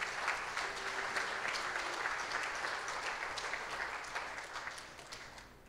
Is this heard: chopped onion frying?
no